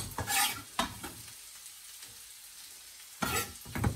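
Finely chopped carrots frying in a pan, a steady soft sizzle throughout with bursts of scraping and stirring at the start and again near the end, close and without talk.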